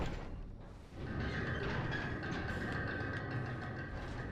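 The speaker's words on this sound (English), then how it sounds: "I think that's the sound of the gate opening." A gate opens in Dark Souls II with a dull thud followed by a sustained low mechanical rumble and grinding drone that carries on steadily for several seconds, with no voices.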